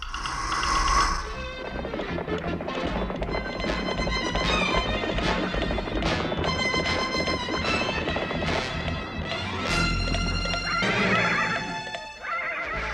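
Horses neigh and whinny loudly in an animated Western episode as riders dismount, over busy orchestral music with hoof sounds and clatter.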